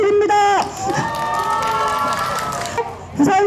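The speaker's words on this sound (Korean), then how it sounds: "여러분 큰 응원의 박수 부탁드립니다" A crowd at an outdoor press conference urging a Busan municipal dental hospital for people with disabilities breaks into loud, sustained cheering and applause, with raised voices and shouts throughout and a fresh burst of cheers near the end.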